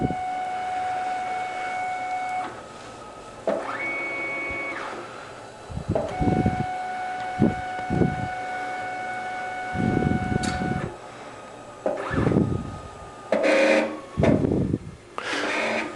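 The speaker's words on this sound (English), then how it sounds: "So you can see the cutter has scanned from side to side" A Clipper vinyl cutter powering up and scanning side to side to find its pinch rollers, steady motor whine and electronic tones with short carriage movements, clicks and whirs.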